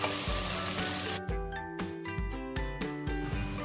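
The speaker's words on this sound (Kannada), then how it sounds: "ಕಾದ ನಂತರ ಕತ್ತರಿಸಿರುವಂಥ ಈರುಳ್ಳಿನ ಹಾಕೊತಾ ಇದ್ದೀನಿ. ಇದು ಕಂದು ಬಣ್ಣ ಬರೋವರೆಗೂ ನೀವು ಬಾಡಿಸ್ಕೋಬೇಕು." Chopped onions frying in a hot pan for methi pulao, a steady close sizzle broken by several sharp stirring scrapes and clanks, with no voices.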